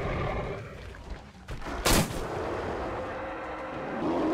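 A Molotov cocktail hurled at a bear in the video game Metro Exodus bursts with one loud, sharp whoosh-crack near the middle, with a steady burning roar around it before and after.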